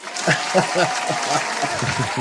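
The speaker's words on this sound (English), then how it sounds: "Allow me to put a little bit of applause" A canned applause sound effect plays on a Filipino-American radio show, a burst of crowd clapping mixed under a voice talking over it.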